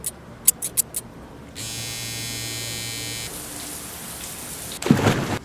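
Water dripping and splashing while someone washes their face at a sink: a few brief drips, then a steady humming stretch, and finally a burst of close splashing.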